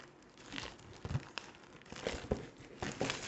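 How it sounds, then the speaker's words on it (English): Plastic wrap is peeled and crumpled off Warhammer 40K Fireteam game tokens, a close, continuous crinkling and crackling with irregular louder tearing bursts, quiet overall. "So, we're going to unwrap that."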